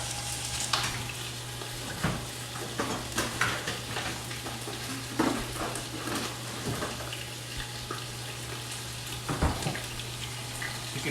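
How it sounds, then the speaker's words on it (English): Spare ribs dredged in flour fry in a pan with a steady, quiet sizzle and occasional scraping stirs, heard close up throughout. "You can hear the meat sizzling away."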